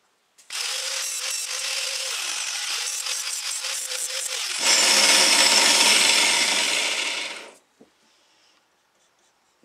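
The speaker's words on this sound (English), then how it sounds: "I turn the blade side up and just very lightly go over this edge here, making a little bit of a bevel" Power grinder sharpening a lawn mower blade edge into a bevel, loud continuous grinding whine with brief pitch dips, then a harsher rasping stretch before spinning down to quiet.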